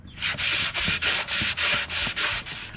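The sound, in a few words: sanding a wooden board with a sanding block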